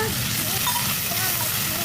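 Potatoes fry in a pan of hot oil for a Bengali fish curry with elephant foot yam, giving a loud, steady sizzle with light stirring scrapes.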